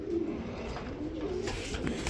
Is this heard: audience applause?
no